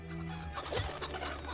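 Chicken clucking in the Fable video game, a few soft, low fowl clucks and coos over a steady humming game background, moderately quiet with no talk.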